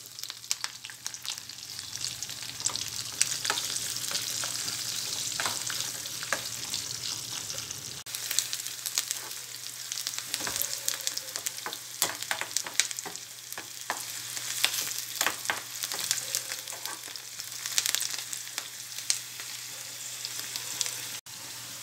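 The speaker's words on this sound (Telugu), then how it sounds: "ఉల్లిపాయ ముక్కలు వేసుకోవాలి." Chopped onions frying with garlic, green chillies and curry leaves in hot oil, a continuous crackling sizzle with scattered sharp pops and occasional scrapes of stirring, close and steady throughout.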